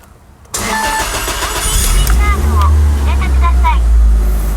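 A Toyota Altezza engine cranks and fires after a brief quiet moment, then settles into a loud, steady idle with a deep rumble, while a voice speaks over the running engine.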